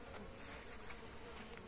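Uruçu-amarela stingless bees buzzing faintly at the entrance of their hive, a soft, continuous insect hum with slight flickers and no voices.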